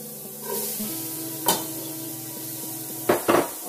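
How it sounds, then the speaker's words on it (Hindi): Peas dropped into ginger-garlic paste frying in a pan produce a steady close sizzle, broken by brief clattering stirs and utensil knocks, with no talk. "अब उसमें पहले मटर डालते हैं"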